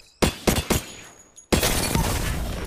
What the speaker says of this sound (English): I'll shoot this with an R9 first.